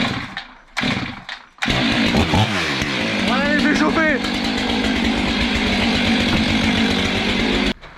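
A Stihl MS500i chainsaw is pull-started: a couple of short bursts, then it catches and runs loud and close, revving up and down, while someone speaks over the engine.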